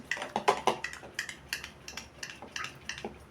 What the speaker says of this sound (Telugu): ఇలా కవ్వంతో చేసుకుంటామండి మజ్జిగ.